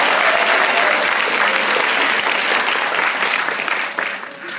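A crowd applauds loudly and steadily, a dense wash of clapping that fades slightly at the end.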